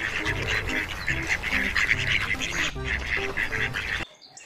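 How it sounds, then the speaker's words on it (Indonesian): A duck quacks loudly and repeatedly in a quick, rhythmic run of calls, which stops abruptly near the end and leaves faint noise. "Ada bebek."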